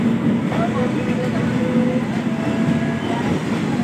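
Rumble of an Indian Railways train, the 15010 Mailani–Gorakhpur express, running steadily with constant low-frequency hum and faint rail noise while people talk nearby in the carriage.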